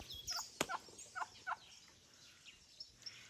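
Turkeys gobble in Kiryandongo, Uganda, giving a series of short, rapid gobbling bursts of moderate loudness with a sharp click between them, fairly close and without speech.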